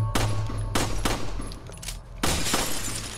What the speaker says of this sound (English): I can shoot the windows, eh?